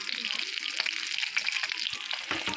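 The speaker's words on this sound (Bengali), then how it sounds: "এই যে মাছ ভাজা করছে ভাজা হয়ে গেছে" Oil sizzles and crackles in a pan as fish fries, a steady hiss close by with a few clinks and faint voices in the background.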